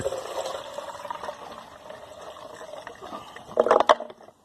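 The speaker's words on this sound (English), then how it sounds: "And if you heard that clunk, that was the sound of the fuel filter." Old fuel from a Poulan Pro string trimmer poured into a container, a soft liquid splash ending in a brief loud clunk as the deteriorated fuel filter drops in.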